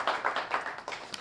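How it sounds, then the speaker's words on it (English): A short, light patter of clapping from a small audience at a school student-of-the-month ceremony, a handful of distinct claps rather than a full ovation, fairly quiet and brief. "Let's have a nice round of applause for these fine"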